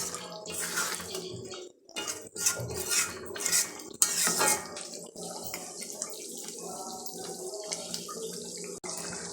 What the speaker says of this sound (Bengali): এখন আমি দিয়ে দেব কিছুটা গরম মশলা বাটা। ভালোভাবে নেড়ে চেড়ে মশলাটা মিশিয়ে নেব।